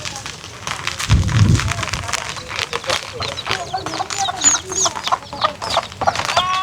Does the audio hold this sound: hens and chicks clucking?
yes